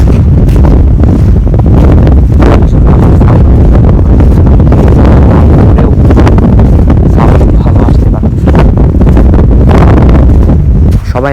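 Strong wind roars and buffets across the microphone near open water, with a faint wash of water underneath, loud and continuous throughout.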